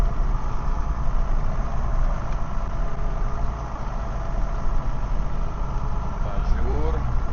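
An old tractor engine idles on a farm in winter, a steady low rumble running evenly through the whole stretch, fairly loud and close, with no breaks in its drone.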